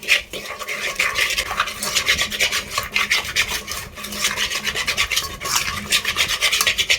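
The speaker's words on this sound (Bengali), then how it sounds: "আচ্ছা এগুলো সব মিক্স আপ করে নিচ্ছি" Spice masala being mixed by hand for chicken biryani, a close, continuous wet rubbing and squishing with irregular pulses as the mixture is turned and pressed.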